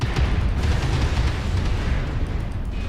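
Airstrike in the mech combat game MechWarrior Online, a loud, continuous rumble of overlapping explosions with deep booming bass, alone without talk.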